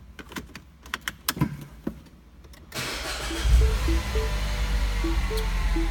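A 2010 Mini Cooper S being started from the driver's seat: a few clicks and switch sounds, then the engine cranks and catches, settling into a steady close idle.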